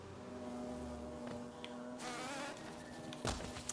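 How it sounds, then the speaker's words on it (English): A buzzing bee enemy in the Hollow Knight video game hums steadily and faintly over a soft, ambient game soundscape, with no talking. "there's a random bee that I've not seen"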